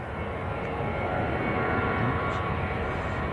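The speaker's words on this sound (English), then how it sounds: "Your Scandinavian Embraer has just landed on the other side as well." A Scandinavian Embraer airliner lands at Manchester Airport. Its engines give a loud, steady, broadband roar that fills the whole few seconds without a break.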